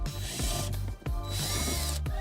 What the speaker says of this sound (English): now we can remove the Phillips head screw